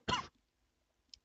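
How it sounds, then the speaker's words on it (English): A man lets out a combined burp and cough, one short throaty burst followed by a faint small click, close and alone in otherwise quiet surroundings. "Burp and a cough at the same time."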